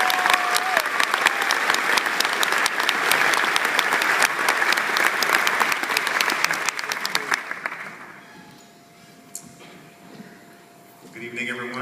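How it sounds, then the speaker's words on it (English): An audience applauds a speaker about to take the stage at an evening community event, a loud, dense patter of clapping that fades out, leaving quiet room noise and a few faint sounds. "Please give him a round of applause."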